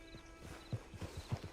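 Horse hooves clip-clopping at a walk in the Red Dead Online video game, several soft uneven thuds close by, quiet and alone with a faint tonal hum behind.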